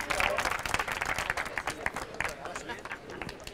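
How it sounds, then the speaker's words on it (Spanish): Scattered audience clapping at an entrepreneurship and innovation event, a dense patter of hands that tapers off over a few seconds with talk mixed in. "Jessica, un aplauso."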